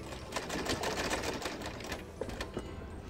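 Continuous fast, rattling stitching from a sewing machine joining folded fabric strips onto a dupatta, close and steady across the whole stretch without talk.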